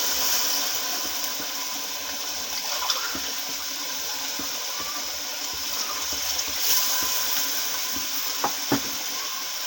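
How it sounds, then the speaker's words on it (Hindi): Water from two glasses is poured into a cooking pot of turnip and meat curry, giving a steady splashing and gurgling with soft sizzling underneath, moderately close and with no talk. "दो गिलास पानी शामिल कर देंगे।"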